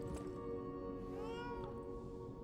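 A cat meows with a rising, drawn-out cry over a steady, busy background of game music and sound, close and clear, while no one speaks during it.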